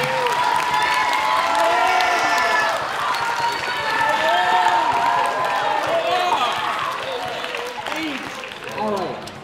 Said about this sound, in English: give Mr. Hudson a round of applause